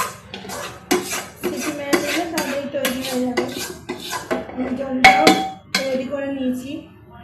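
Vegetable khichdi is tipped into a pressure cooker, with a series of close metallic clanks and scrapes of a utensil against the pot in irregular bursts.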